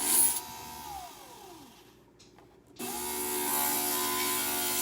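Motorized glass grinder working a small mosaic piece for a pendant. A steady close whir winds down and stops briefly, then starts again and runs steadily to the end, without talk.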